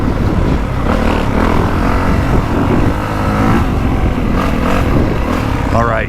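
A 2025 Honda CRF450R motocross bike roars steadily while it is ridden around a dirt track, its loud, close engine note running throughout under heavy wind buffeting.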